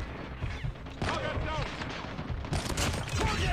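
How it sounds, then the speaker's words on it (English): Gunfire in Call of Duty Mobile, heard as dense, continuous bursts of loud, clattering shots that layer over one another, with game voices and noise mixed in throughout. "I got shot! I don't know who's shooting at me."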